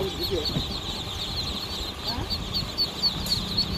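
Local chickens and chicks cluck and peep faintly in the background while a person talks over them.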